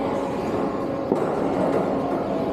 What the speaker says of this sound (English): এটা হচ্ছে গ্রাইন্ডার টাইপের, গ্রাইন্ড করে যেটা মোটা মোটা চায়ের দানাগুলো এটাকে ভেঙে গুঁড়া করে দিচ্ছে